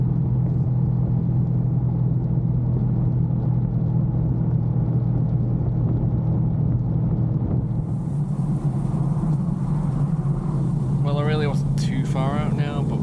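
A Honda Hornet motorcycle engine drones steadily and loudly, blasting down an English A road and overtaking traffic, with heavy wind rush and a continuous low rumble throughout.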